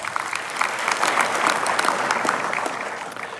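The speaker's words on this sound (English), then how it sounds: "Now, third time, applaud for our students." A large audience at a university convocation ceremony applauds the students, a dense, sustained wash of clapping that holds steady throughout.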